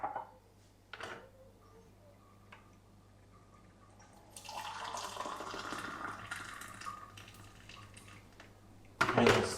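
Water pours steadily into an electric kettle, a sustained splashing rush that builds over several seconds, follows a few faint knocks, and ends with a sharper clatter.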